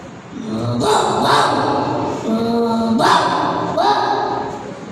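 A voice imitates a dog with a few rough, gruff barks and growly yaps, close and fairly loud.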